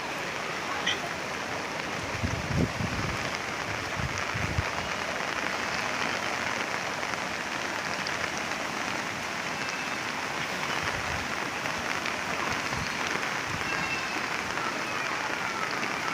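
Steady, dense hiss of heavy rain pouring down continuously, loud and close, with a few low thumps and rumbles underneath.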